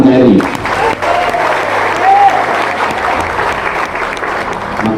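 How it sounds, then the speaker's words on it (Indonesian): A crowd at an Indonesian Dayak gathering applauds during a speech, with dense, sustained clapping that stays loud and even across the whole stretch and a brief voice at the start. "Tepuk tangan NKRI."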